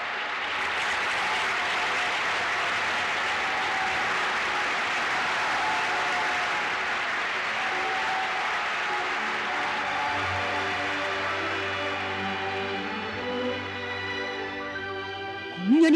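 A theatre audience gives loud, sustained applause and cheers after a Pyongyang student and youth arts troupe performance in Japan in 1983. The dense clapping fills the whole stretch and thins slightly toward the end as music rises underneath.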